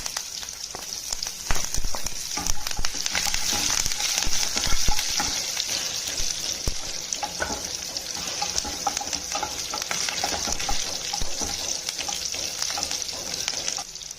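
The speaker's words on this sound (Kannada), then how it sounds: "ಇವಾಗ ಬೆಳ್ಳುಳ್ಳಿ ಹಾಕ್ತಾಯಿದ್ದೀನಿ, ಕರಿಬೇವು ಹಾಕ್ತಾಯಿದ್ದೀನಿ." Garlic and curry leaves fry in hot oil while tomato dal is being made, giving a dense, continuous crackling sizzle with small popping spatters, close and loud, with no talking.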